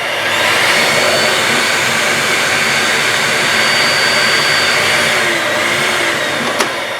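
An Electrolux Z5010 Excellio vacuum cleaner running at its minimum power setting, a loud steady close-up motor roar and airflow hiss that holds unchanged for seven seconds, ending in a single sharp click.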